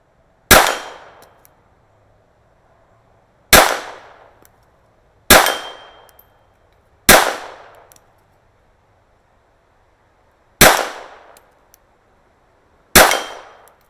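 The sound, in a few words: pistol shots hitting a steel gong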